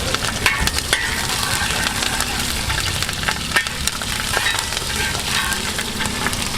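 Green chillies and ginger frying in a pan, a steady close sizzle with crackling pops and occasional stirring scrapes, moderately loud and without talking.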